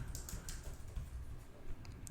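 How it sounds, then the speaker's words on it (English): Typing on a BrydgeAir keyboard for an iPad Air, a steady patter of light key clicks close to the microphone, continuous over a couple of seconds with no voices. "And I've did some type tests, and which we'll do one right now."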